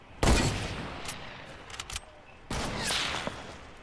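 Video game gunfire sounds in two loud bursts, a sharp volley at the start and another rapid stretch of shots after a brief lull with scattered smaller hits.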